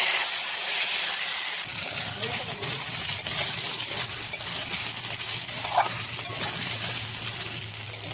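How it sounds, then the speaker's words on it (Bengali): Cut pieces of taro and potato drop into hot spiced oil in a cooking pot, setting off a steady loud sizzle and hiss that runs continuously, with a brief soft clatter as they land. "এবার আমি এখানে গাঠি কচুর আলু কেটে রেখেছি সেটা দিয়ে দেবো।"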